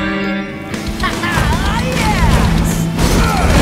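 Cartoon monster trucks crash through old junk on a muddy mountain course, loud crunching impacts and rumbling under excited voices and music, with talk running throughout.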